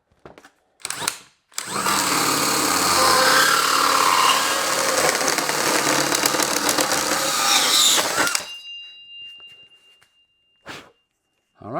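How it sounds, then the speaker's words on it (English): A power drill with a hole saw cuts a hole during cup holder work on a Factory Five MK4 Roadster build, a loud grinding whir of about seven seconds bracketed by brief tool bursts and quiet. "let's just drill this out with the hole saw"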